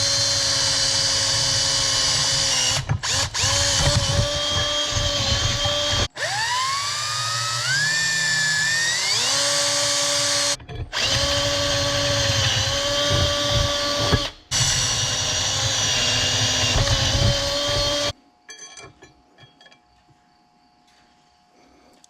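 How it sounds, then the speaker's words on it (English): On a farm, a power drill bores holes for mounting a light-beam sensor, whining loudly in several long runs whose pitch rises and dips under load, separated by brief stops, before falling quiet near the end. "let's go ahead and drill these holes."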